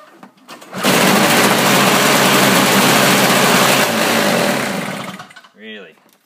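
A Snapper LE19 snow blower engine starts cold at about 0°F and runs with a loud, steady roar close by for about four seconds, then dies away, followed by a brief voice.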